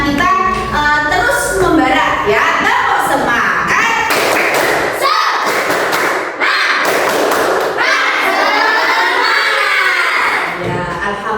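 Primary school class of fifth graders doing a rhythmic spirit-clapping chant, loud claps in quick patterned bursts mixed with children's shouted voices, filling the room throughout.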